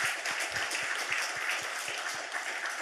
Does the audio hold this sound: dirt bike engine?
no